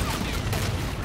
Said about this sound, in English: Roger, inbound for gun run.